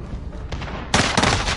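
Call of Duty multiplayer gunfire: a dull muffled burst early on, then a louder, closer rapid volley of shots in the second half.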